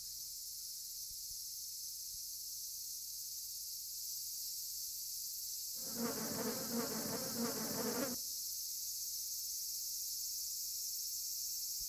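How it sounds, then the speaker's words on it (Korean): An Asian giant hornet buzzes close by at oak sap in a forest, a loud dense drone lasting about two seconds before stopping, set against a steady high insect and ambient hiss. "장수말벌이 나타났다."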